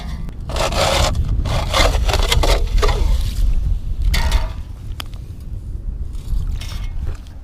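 An auger drills through thin lake ice, giving a steady close grinding and scraping roar that runs for several seconds and then eases to a lighter rasp.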